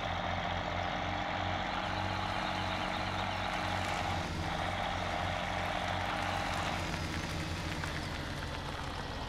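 A tractor engine in Farming Simulator 17 runs steadily throughout, a low continuous drone with a constant mid-pitched tone and a brief shift near the middle, loud and alone with no talking.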